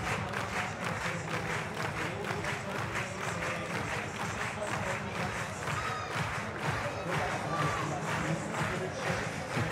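A large stadium crowd at the Munich 2022 European Championships bouldering final applauds and cheers continuously, dense rhythmic clapping filling the space with a commentator's voice faintly underneath.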